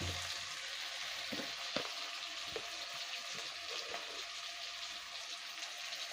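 Tomato frying in a pan for a Bengali patol chingri curry, giving a steady, soft sizzle with occasional stirring clicks and scrapes.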